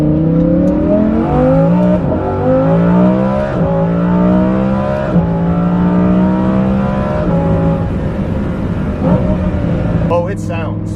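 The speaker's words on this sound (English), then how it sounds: "videos do the exhaust sound of this Kline-Innovation system no justice whatsoever" A Lamborghini Huracan Performante fitted with a Kline-Innovation exhaust revs loudly and continuously, its engine note climbing and dropping through repeated gear-like sweeps, close and dominant with a crackle near the end.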